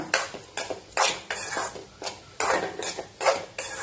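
Metal spoon scraping and stirring a bitter gourd and jackfruit seed stir-fry in a pan, a series of about nine quick rhythmic scrapes and clatters, close and fairly loud.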